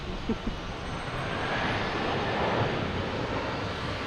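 Aircraft engine roar from planes taking off at Boston Logan Airport, a steady broad rumble that swells slightly mid-way, heard from nearby with faint voices in the background.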